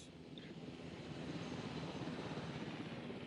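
A helicopter in the dinosaur park game Jurassic World Evolution gives off a steady, muffled rotor and engine drone that swells slightly louder midway, with no voices.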